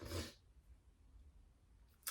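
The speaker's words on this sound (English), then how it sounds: "I'm going to sneeze." One short, sharp human sneeze bursting out at the start, close and fairly loud, then near silence with a faint noise at the end.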